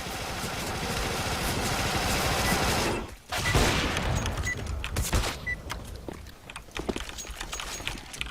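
Rapid gunfire from an online shooter game, dense bursts of shots at close range filling most of the stretch, dropping out briefly before scattered further shots continue.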